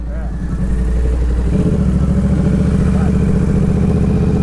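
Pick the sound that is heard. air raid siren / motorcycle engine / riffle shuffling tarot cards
motorcycle engine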